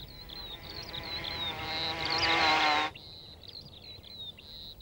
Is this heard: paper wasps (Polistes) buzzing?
yes